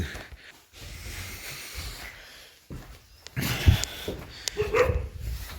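Dogs bark a few times at a distance amid outdoor background noise in Manipur, with some snorting and breathing sounds close by.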